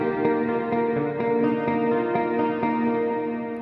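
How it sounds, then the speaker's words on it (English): Electronic dance music with heavy reverb applied, a sustained chordal synth with regular rhythmic pulses ringing out in a washed, echoing tail, played alone without talk. "As you can see, a lot of reverb."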